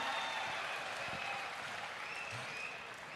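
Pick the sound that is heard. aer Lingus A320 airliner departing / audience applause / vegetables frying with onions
audience applause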